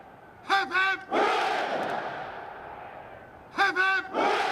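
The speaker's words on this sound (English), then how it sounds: "The first cheer alone just echoed off all the buildings surrounding the palace" A large crowd outside Buckingham Palace roars two rousing cheers for the King, loud voices ringing and echoing off the surrounding buildings, with a lead voice calling before each cheer.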